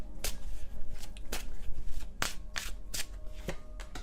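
A deck of tarot cards being shuffled by hand, a close, crisp run of riffling flutters and sharp card snaps repeating at an uneven rhythm, with no talking.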